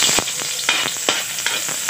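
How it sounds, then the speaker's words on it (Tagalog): Garlic sautéing in a pan, a continuous close sizzle punctuated by several sharp crackles and stirring clicks, with no talk. "Okay, tara na gigisa na tayo."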